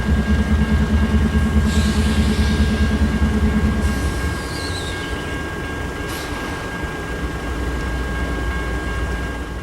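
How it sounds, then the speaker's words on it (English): A freight train approaches near Kepler Rail Park, Bellevue, rumbling steadily with a low heavy drone, bursts of distant horn-like tones and faint wheel squeal above, loud and continuous throughout. "there seemed to be another freight train coming towards us"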